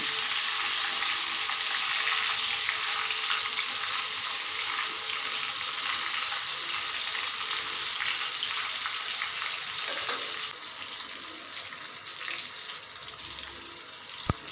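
Raw banana slices fry in hot oil for chips, giving a dense, steady bubbling sizzle that fills the clip and eases slightly toward the end, close and loud, with no voices.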